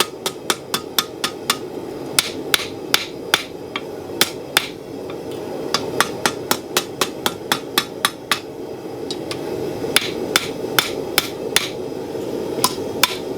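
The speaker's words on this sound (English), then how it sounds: "Clean up those hammer blows, keep knocking scale off." Sharp metallic hammer strikes on an anvil ring out in a fast, steady rhythm while forging a spoon, dozens of blows with brief pauses, close and loud.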